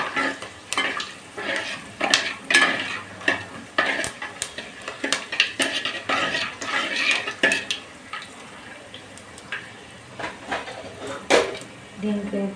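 Whole spices, including cardamom, marathi moggu and shahjeera, sizzle in hot oil in a pot for chicken pulao while a spoon stirs them. Metal scrapes and clinks repeatedly over a steady frying hiss, close up.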